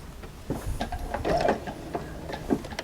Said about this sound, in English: We're going to take just a few quick back stitches so we can keep that in, and then we're just going to go around.